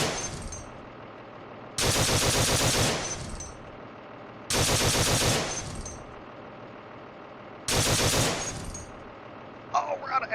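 Machine gun fire in the Steel Beasts Pro PE tank simulator, in a Russian invasion of northeast Ukraine scenario: three loud, sustained bursts of rapid fire separated by quieter stretches of engine rumble.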